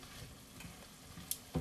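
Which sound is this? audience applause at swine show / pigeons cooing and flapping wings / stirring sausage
stirring sausage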